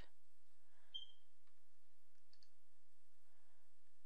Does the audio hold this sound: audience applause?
no